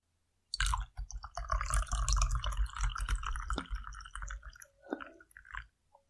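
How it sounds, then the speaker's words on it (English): Tea being poured into a cup, a brief close splashing and trickling of liquid lasting a few seconds with small clinks, fairly quiet. "I'm going to pour myself some more tea."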